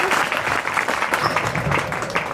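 An audience of students claps for a young girl at a motivational school talk, giving a sustained, dense burst of applause that fills the whole moment.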